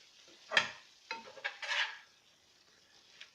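Fresh basil leaves are stirred into a spicy Thai basil chicken stir fry in a pan: a few soft scraping, shuffling strokes, close and fairly quiet, with pauses between them.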